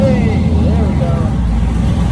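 A car engine running loudly and close after being jump started with a jumper box, a steady low rumble with a faint rising whine over roughly two seconds and no talk.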